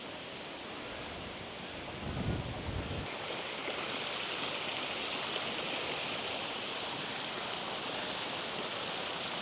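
Water features at the Asia Gardens Hotel pool in Finestrat near Benidorm, a steady soft wash of flowing and splashing water, with a brief low rumble early before the even hiss continues alone.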